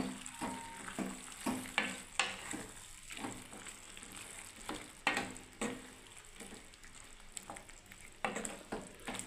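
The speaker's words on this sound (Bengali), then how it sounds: "মিশিয়ে দিচ্ছি বন্ধুরা।" Mixed vegetables with chopped coriander leaves stirred in a frying pan: a low, steady sizzle with regular scraping strokes of a spatula, close and quiet, no voices.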